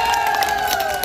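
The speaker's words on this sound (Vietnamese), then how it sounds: "Một tràng pháo tay thật lớn ạ" A crowd at a 21st birthday celebration for Cường claps and cheers in a brief, dense burst of applause and excited shouts, close and fairly loud throughout the short moment.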